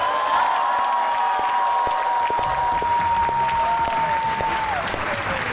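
Talk show studio audience applause welcoming guests, a loud, continuous wash of many hands clapping throughout, with a steady tone running underneath.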